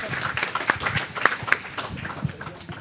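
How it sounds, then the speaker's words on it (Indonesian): Audience applause at an innovation leadership Q&A session, a short burst of scattered, moderately loud claps from a crowd, with no speech over it. "Luar biasa, kita kasih tepuk tangan."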